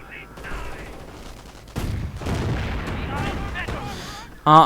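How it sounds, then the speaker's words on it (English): In a WWII strategy video game, an anti-tank gun booms and rifles crack in scattered shots and rumbling blasts against armor, heard over a commentator's voice. "Anti-tank gun keeping all the German armor at bay."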